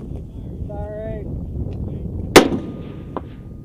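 A US military Carl Gustaf recoilless rocket launcher fires once on a range, a sharp, loud blast with a short rumbling tail and a fainter crack just after, over steady outdoor wind noise and a shouted voice beforehand.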